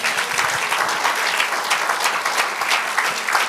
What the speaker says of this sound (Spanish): Dele aplauso al Señor.